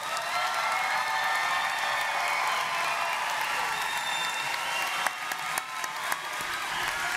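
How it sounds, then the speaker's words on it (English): Sustained audience applause for graduates at a 2018 TCC commencement ceremony, a dense steady wash of clapping from a large crowd with a few sharper claps standing out near the end. "Why don't we give all of the graduates a round of applause?"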